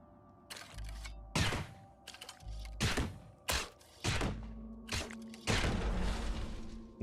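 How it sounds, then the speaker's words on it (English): Several heavy booming blasts from the video game Caves of Qud, each a sudden loud burst with a decaying tail, spaced irregularly over a few seconds and growing into a longer rumble at the end. "Nice explosion."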